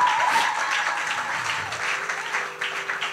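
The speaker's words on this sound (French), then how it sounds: "Please give them a big hand." Conference audience applause, a steady wash of many hands clapping at close-to-mid distance, sustained for the whole stretch without talk.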